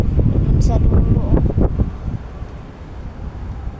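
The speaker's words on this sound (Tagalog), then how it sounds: "Ay, ang lakas ng hangin." Strong wind blowing outdoors under a darkening sky, rumbling and buffeting the microphone in heavy gusts that ease slightly toward the end, with a voice talking over it.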